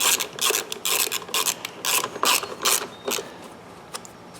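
Bolts being tightened with a ratchet on a Toro Recycler lawnmower fitted with a Kohler XT675 engine: close, loud bursts of quick clicking ratchet strokes separated by short pauses, with no talking.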